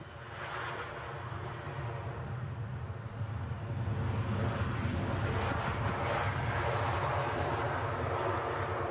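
A Ryanair Boeing 737 passes at Edinburgh airport, its engine roar building from moderate to loud and holding steady as it nears, with no talking over it.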